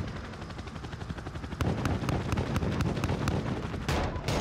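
Helicopter gunship cannon fire in Call of Duty Modern Warfare, a rapid rhythmic stream of heavy shots over rotor rumble, loud and steady, ending with a sharper blast.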